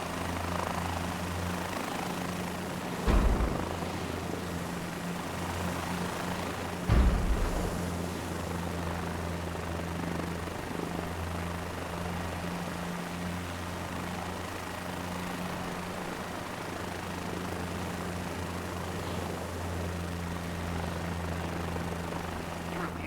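A helicopter in a flight simulator video game hovers steadily and then sets down, with a continuous rotor and engine drone throughout and two brief thumps a few seconds apart.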